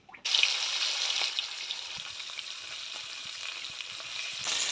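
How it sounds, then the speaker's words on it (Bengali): Rui fish pieces hit hot oil in a kadai over a stove, setting off a sudden loud, steady sizzling hiss that holds close and continuous, with no voices. "তেল দিয়ে এবার মাছগুলোকে ভেজে নেব।"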